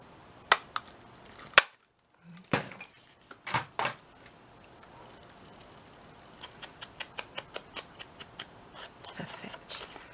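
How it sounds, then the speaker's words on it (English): Scissors snip a notch into a paper bag handle: a few sharp, isolated cuts at first, then a quick run of small, evenly spaced snips, all close and crisp against a quiet room. "shall we cut a little notch out?"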